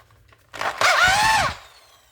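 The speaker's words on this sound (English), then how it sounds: "when I was putting the load on the drill just then with my hand" An electric drill powered through a variac spins up and runs under load from a hand pressing on it, a loud, steady whining motor hum lasting under a second before it winds down, with no speech.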